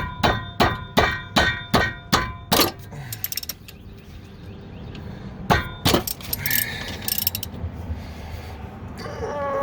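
A wrench clacks in a quick series of sharp metallic ratcheting strokes while loosening bolts on Chevy Malibu Maxx brakes, followed by scattered clinks and a second short burst of clicks up close.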